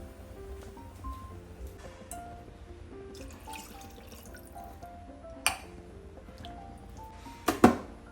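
Water is poured into a pot of chicken to make stock for a Kolhapur-style tambada rassa, giving faint trickling and dripping with a few sharper splashes and clinks near the end.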